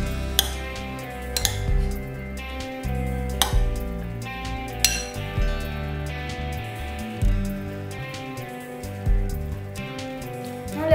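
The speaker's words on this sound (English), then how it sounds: "Now let us mix them properly." A spoon clinks and scrapes against a bowl while grated carrot sandwich filling is stirred, a few light, scattered taps sitting under steady background music.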